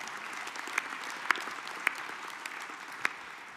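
Moderate applause from attendees at a U.S. Soccer National Council meeting, a steady patter of clapping in a conference hall with a few sharper, louder individual claps standing out.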